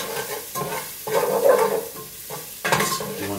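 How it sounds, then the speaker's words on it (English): A spoon scrapes and stirs rice grains in a hot pan for mushroom risotto, with rhythmic sweeping strokes over a soft, steady sizzle, close by and with no talking. "Add rice and cook, stirring occasionally until the grains start to turn translucent."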